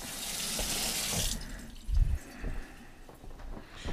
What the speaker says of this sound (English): Yes, I know the water's running behind me.